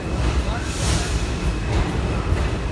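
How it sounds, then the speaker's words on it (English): An F train pulls out of a subway station at Coney Island on a rainy day, a steady loud rumble of wheels and rail noise close by, with voices talking faintly underneath. "So the F train's right now leaving at track number 6."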